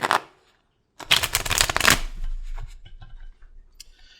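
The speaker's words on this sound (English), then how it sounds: "I'm just going to do another cut here and then shuffle through one more time" A deck of tarot cards riffles and shuffles quickly for a couple of seconds after a short flick, then settles with a few soft taps.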